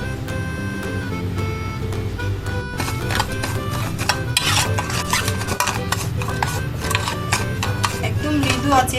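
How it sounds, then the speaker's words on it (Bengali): Sugar and a little oil being stirred and scraped in a metal cake mould over gentle heat to caramelize, repeated gritty rubbing and light metallic scraping under someone speaking. "মোলটা বসিয়ে দিয়েছি আর চিনিগুলোকে হালকা হালকা করে নেড়ে দিচ্ছি। চিনিটা ব্রাউন কালার হয়ে যাবে।"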